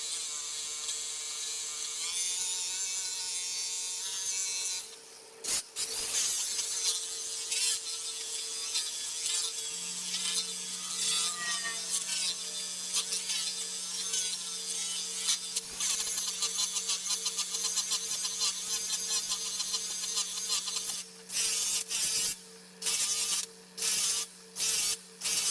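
A variable speed polisher spreads metal protectant over polished aluminum on a semi truck, giving a steady whining hum that runs unbroken for a long stretch, then cuts in and out in short bursts near the end.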